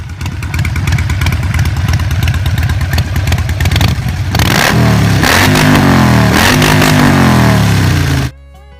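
A V-twin motorcycle engine runs loud and close, first a throbbing idle, then several sharp revs that rise and fall before cutting off abruptly.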